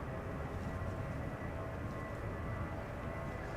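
A Transavia airliner in standard livery taxis at Amsterdam Schiphol Airport, a steady, full-bodied jet engine rumble with broad roar holding constant throughout, fairly close, with no voices.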